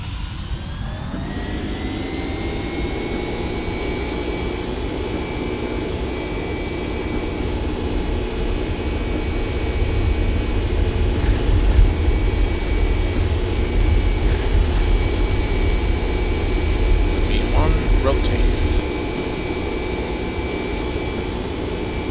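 Airliner jet engines spooling up to full takeoff power in the X-Plane 10 flight simulator, an Aer Lingus flight leaving Dublin, a steady loud roar with a high whine that builds and holds throughout.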